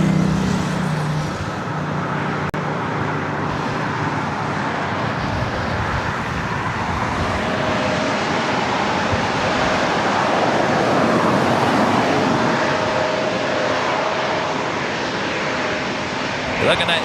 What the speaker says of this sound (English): Nice gentle landing there.